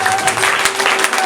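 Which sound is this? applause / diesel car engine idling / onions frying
applause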